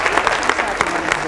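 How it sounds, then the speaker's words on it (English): An audience claps loudly and continuously in a hall, the dense patter of many hands filling the moment with no pauses, a voice faintly present beneath. "You ought to give him a round of applause for saying that"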